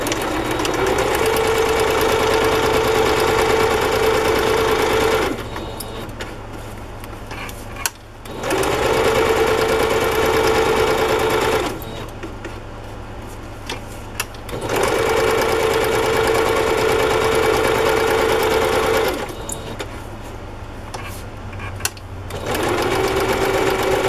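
Sewing machine stitching black thread through a journal card, running in steady motor-driven bursts of about five seconds each with short pauses between, close and loud with a fine rapid rattle.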